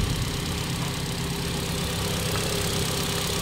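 A Ford Fiesta engine running steadily at a fairly even idle, a close, continuous mechanical drone with low rumble and no voices.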